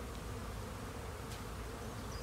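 Honey bees buzz around a beehive outdoors on a fine day, a continuous dense hum of many insects close by with no talking.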